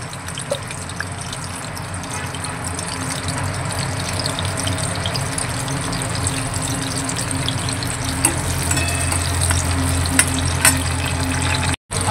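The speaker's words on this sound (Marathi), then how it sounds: "तेल छान गरम झाल्यावरच मिरच्या सोडायच्या आहेत।" Green chillies hit hot oil in a pan for sabudana khichdi, giving a loud, continuous close sizzle and bubbling that holds steady with only a brief break near the end.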